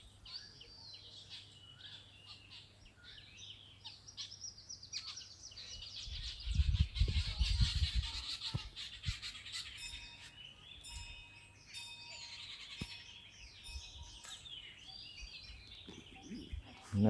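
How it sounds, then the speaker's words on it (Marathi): Small birds chirp faintly near a cowshed at an ashram on the bank of the Narmada, with scattered high tweets and a brief low rumble in the middle. "समोर हे बघा सुंदर पक्षी आहेत"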